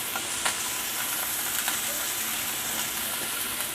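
Pork sirloin steaks browning in a skillet, a steady soft sizzle with a few sharp pops and spatters, fairly quiet and alone.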